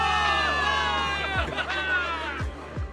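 A crowd of soldiers in the video game Zenless Zone Zero cheers, with layered overlapping shouts and whoops swelling in a dense, energetic roar over a low rumble.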